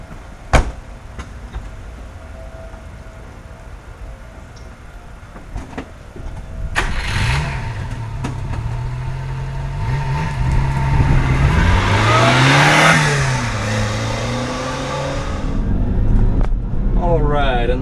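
A 1991 Subaru Sambar 4WD Super Deluxe kei truck engine cranks and starts, then revs and pulls away, its mid-pitched note rising and falling through gear changes; the engine sounds close and loud, with a brief knock early on and speech beneath.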